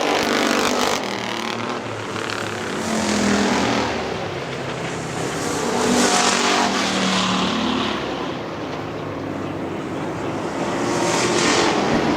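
A field of factory stock race cars circles Hartford Speedway Park in 2002, a continuous roar of engines that surges in several waves as the cars sweep past, loud and without talking.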